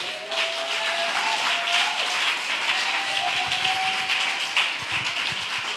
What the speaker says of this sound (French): Acclamons encore les femmes.